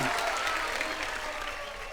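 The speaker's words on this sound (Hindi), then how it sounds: "जोरदार तालियां।" Studio audience applause for a round winner on a comedy stage show, a brief burst of crowd clapping, fairly faint and mixed with background voices.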